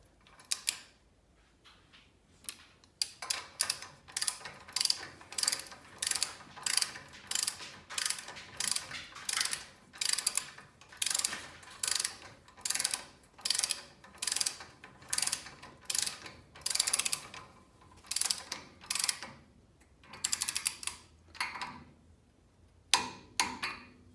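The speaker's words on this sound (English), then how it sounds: "I like to just use a torque wrench to up to 15 pounds." Ratcheting torque wrench seating wheel bearings onto the spindle of a Squarebody truck, a long run of rapid ratchet clicking in repeated bursts with short pauses, close and crisp.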